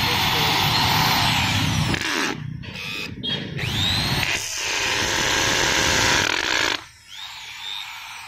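A used Japanese-import power drill whirs loudly during a test run, its motor whine rising and dropping as it stops and restarts, with a brief voice over the machine.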